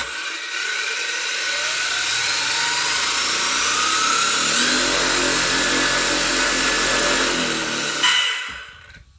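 Axial RYFT RBX10 RC rock bouncer truck's electric motor on a 4S LiPo battery, a loud, steady high-pitched whine held for about eight seconds, then a brief surge and a quick wind-down.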